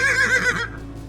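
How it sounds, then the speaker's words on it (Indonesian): A horse whinnies once, loud and close, with a shaky rising-and-falling neigh that fades into quiet room tone after about half a second. "Itu suara kuda tuh."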